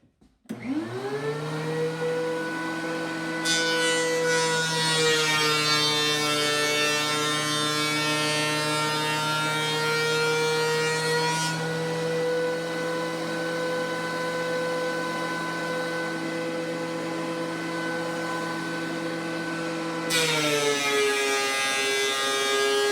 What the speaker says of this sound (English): So we're going to put it through the DeWalt thickness planer a few